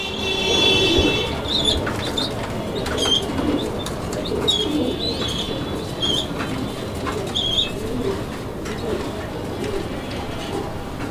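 Fancy pigeons at a breeding farm coo softly and repeatedly nearby, with occasional wing flutters and a steady low background rumble.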